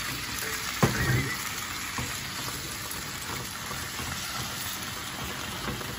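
Meat stir-frying in a hot pan during a late-night staff meal at a Rairaitei ramen shop. A steady, dense sizzle runs throughout, with a brief louder thump of food hitting the pan near the start.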